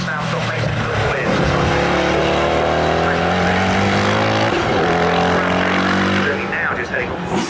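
A race car roars past at Snetterton circuit during a CSCC race meeting, a loud sustained engine drone that swells and recedes, with a commentator talking over it.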